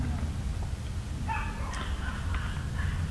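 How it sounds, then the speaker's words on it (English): Dogs barking outside, distant and faint, a few yips and barks cutting through a low indoor hum. "There's some dogs going crazy out there."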